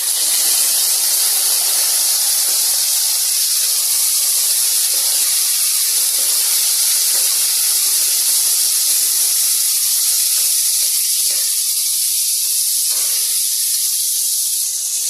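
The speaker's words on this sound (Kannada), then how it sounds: "ನೋಡಿ ಫ್ರೈ ಆಗ್ತಾ ಇದೆ." Vegetables with soaked soya chunks and carrot frying in a pan, a loud, unbroken hissing sizzle that holds steady throughout, dense and close, with no voices over it.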